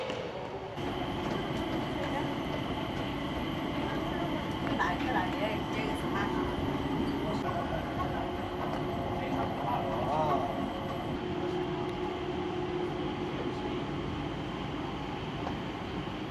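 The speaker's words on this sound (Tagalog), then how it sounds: "Skytrain to T3, meron ng parating na train" The Changi Airport Skytrain to Terminal 3 rolls into the station with a steady, fairly loud rumble and whine that lasts throughout, heard from the platform under faint background voices.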